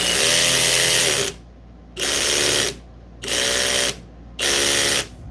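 A power drill whirs in four bursts of about a second each with short pauses between, loud and close, with no speech.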